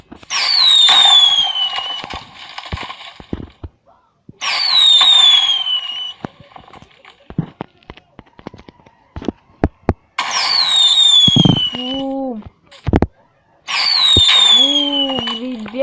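Four bursts of fireworks in Minecraft Pocket Edition: each a rising whistle followed by crackling pops, with a person exclaiming between them, punctuated by sharp bangs.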